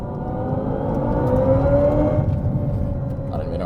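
A Hyundai Ioniq 5 N plays its synthetic evolution drive sound, a steady electronic hum with a rising tonal whine sustained throughout, loud and close.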